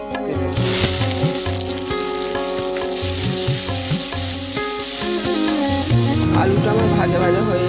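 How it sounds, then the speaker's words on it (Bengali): Potatoes fry in oil in a kadai with dried red chillies and cumin seeds, making a loud, close, continuous sizzle with clattering stirring on top, and a louder crackle near the end. "আলুটা আমার ভাজা ভাজা হয়ে এসেছে।"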